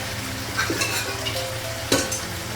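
Duck meat frying in a pan with steady sizzling and a few stirring scrapes, including a sharper clatter near the end, with no voices.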